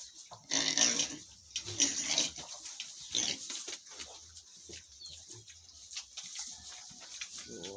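Piglets under a month old, Landrace–Large White cross, feeding in a grower pen, giving a steady run of soft grunts and snuffling with faint clanks, fairly quiet and continuous with no talk.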